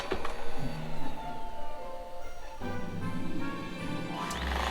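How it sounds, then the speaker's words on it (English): A Shark Ultra robot vacuum's self-emptying base sucks debris out of the robot, a loud steady mechanical roar with shifting tones and a brief change partway through, heard close with no talking. "Then it sucks the contents out into the base, leaving the robot empty again."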